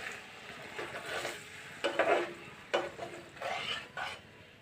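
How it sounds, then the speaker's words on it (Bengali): Water poured into a pan of fried mustard spice paste for a mustard catla curry, giving bursts of loud, close sizzling and bubbling hiss that surge and fade as it is stirred. "এখন আমি এর মধ্যে একটু জল দিয়ে দিচ্ছি"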